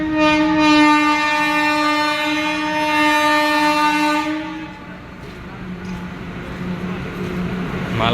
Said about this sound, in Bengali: এইদিকে দেখো ট্রেন আসছে, এক্সপ্রেস আসছে